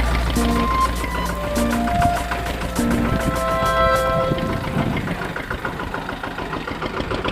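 A tractor engine chugs and idles through a waterlogged, muddy field after heavy rain, a steady low drone with tonal whine that eases slightly toward the end, loud and close, no talk.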